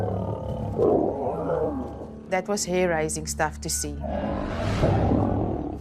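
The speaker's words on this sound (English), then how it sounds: "was roars and the most terrifying sounds." Wild lions roaring and snarling during a violent fight between males, deep rough bursts at the start and again near the end, with someone talking over the gap between them.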